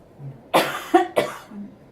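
A person coughs close by, two or three quick harsh coughs in a short burst, with quiet moments before and after.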